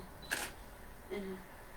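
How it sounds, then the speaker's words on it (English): Two crisp, quick camera shutter clicks, the first sharper and the second softer about a second later, sounding close in an otherwise quiet room. "Now you might have to push the shutter button again."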